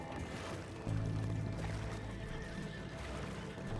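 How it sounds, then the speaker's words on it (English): A horse whinnies in Red Dead Redemption 2 over a steady background of water and ambient game sound, the neigh rising then trailing off. "My horse is going to give me away though."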